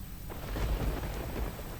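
A low rumble of thunder rolls beneath steady rainfall across Surat, filling the short stretch at a moderate distance with no voices.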